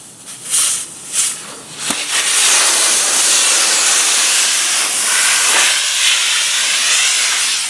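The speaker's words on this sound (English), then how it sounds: "the airline was so cold, it just snapped" Compressed air escapes from a snapped, cold nylon trailer airline during a bent-axle replacement: a few short hissing bursts, then a loud, continuous close hiss that keeps rushing with slight surges.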